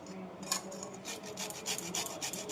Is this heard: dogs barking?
no